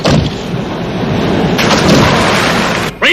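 Thunder rolls during a storm at sea, a loud continuous rumble mixed with heavy rain and wind that fills the whole moment and cuts off abruptly near the end.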